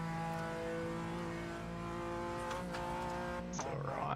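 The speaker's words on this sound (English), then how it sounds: "Keep the noise of the race car down." Race car engine in the iRacing video game, a loud steady harmonic whine held at high revs, briefly dipping and climbing again near the end, with faint talk underneath.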